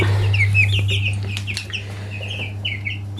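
Five-day-old broiler chicks, about fifty in an enclosure, chirp in a busy stream of high, overlapping peeps over a steady low hum.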